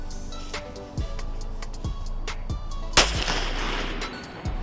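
Firecrackers going off one after another at a fireworks stand event: a series of sharp, loud bangs roughly once a second, with one especially big blast near the middle followed by crackling hiss.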